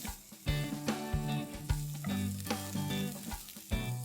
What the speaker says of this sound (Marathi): हे 1-2 मिनिटं परतवून घ्यायचं।